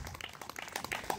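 A church audience at a Bethesda Ministries meeting in Kovur applauds to welcome a pastor onto the stage, a faint, brief, steady patter of many hands clapping at a distance.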